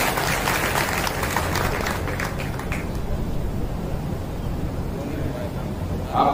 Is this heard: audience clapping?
yes